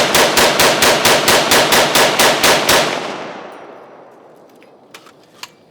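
Rapid string of about fourteen loud, evenly spaced shots from a .300 Blackout rifle at a gun range, fired in a fast burst for nearly three seconds, then a long reverberant decay with a couple of faint distant pops.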